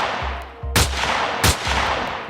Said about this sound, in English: 3 gunshots shook America to its core.